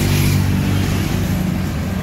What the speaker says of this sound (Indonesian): ini bus Sinar Jaya yang Bandung Palembang, regresnya baru tiba